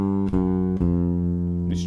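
A blues-rock bass line with approach notes in quarter notes, three plucked notes spaced evenly and slower, each ringing deep and full, the last one sustaining. Close and alone, with no talking.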